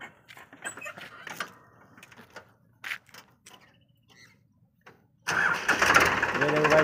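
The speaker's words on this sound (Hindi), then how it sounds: "ये देखो भाई चालू कर दिया ट्रैक्टर को इसने" A farm tractor's engine cranks and catches in a field after several seconds of scattered faint sounds, then settles into a loud, steady idle close by.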